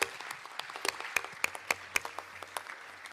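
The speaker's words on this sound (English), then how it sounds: "An applause" Conference audience applauding a young speaker, a sparse, fairly quiet scatter of individual claps from a modest crowd in a hall, with distinct sharp hand strikes standing out over a soft background.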